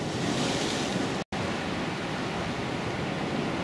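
Waves breaking on a pebbly beach at a cliff valley on the Normandy coast as the tide rises, a steady, close, broadband surf roar with a brief dropout partway through.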